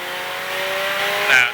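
A Ferrari 488 Challenge Evo race car runs on a track at Speed Vegas, its engine holding a steady high whine before a brief tire squeal near the end.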